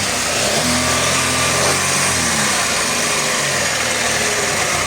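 A Chevrolet Malibu engine fitted with a new catalytic converter, running loud and close in a steady rough drone with a slight swell in pitch as the throttle is pressed.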